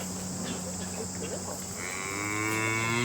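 Small Irish Dexter cattle on a farm low in a steady moo that swells louder toward the end, close by with no talk.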